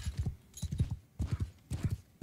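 Hooves clip-clop in quick clusters as a horse moves in Mount & Blade II: Bannerlord, several bursts of galloping beats repeating at a steady pace, moderately loud, with no talk over them.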